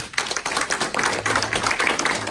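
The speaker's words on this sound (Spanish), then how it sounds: "Démosle un fuerte aplauso al Señor." Dense, steady applause from a church congregation, a continuous wash of many hands clapping at once, fairly close and full for a couple of seconds.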